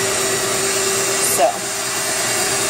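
Motor whirr of a stand mixer whipping mashed potatoes, steady and close throughout with a brief bump in pitch partway; a voice speaks briefly over it.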